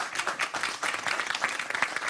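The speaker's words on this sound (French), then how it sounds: "on peut applaudir France" An audience at a live cooking demonstration breaks into brisk applause, many hands clapping in a dense, even patter that holds steady for a couple of seconds.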